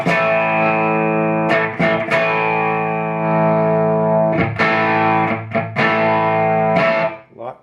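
Electric guitar played through one channel of a converted RCA MI 13295 PA amplifier, sustained distorted chords ringing loud and close, separated by short gaps and pick attacks.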